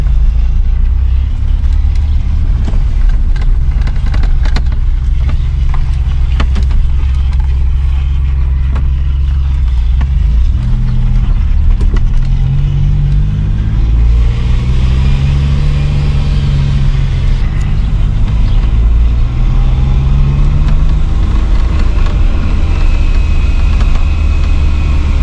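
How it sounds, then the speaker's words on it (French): Maserati driving, its noisy differential audible under engine braking: a loud, continuous engine and drivetrain drone close by, with the pitch sweeping up and down as the car slows and shifts. "Déjà remarqué que le différentiel est plutôt bruyant au frein moteur."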